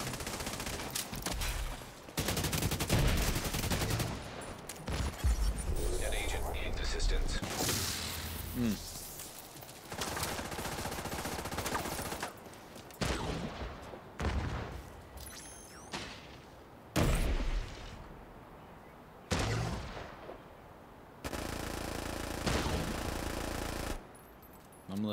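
Gunfire in the video game The Division 2: repeated bursts of automatic shooting separated by brief pauses, loud and close, with players talking over the action.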